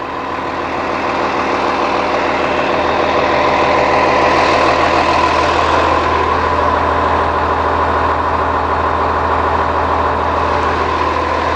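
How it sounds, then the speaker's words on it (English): A Cummins ISC diesel idles at the rear of a 2009 Blue Bird All American pusher bus, a loud, steady, close rumble with a constant throb and no voices. "this is a pusher, rear engine bus. Take a look at that Cummins ISC here."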